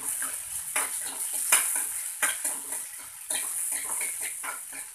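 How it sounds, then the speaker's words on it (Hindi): Onions frying in a pan for a potato and capsicum sabzi, a bright sizzle punctuated by repeated spoon scrapes and taps as they are stirred. "अब हम इसमें प्याज डालेंगे। और इसको अच्छी तरह से इसमें मिला"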